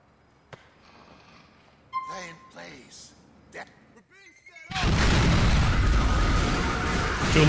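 Bomb detonation in GTA 4, The Ballad of Gay Tony: scattered game sounds and a voice, then a sudden loud, sustained explosive roar that fills the last few seconds.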